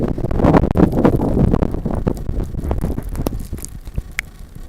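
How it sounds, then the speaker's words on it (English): Wind blowing during a blizzard, rushing and buffeting the microphone in loud close gusts that ease off, with scattered crunching and knocking sounds. "And it's windy."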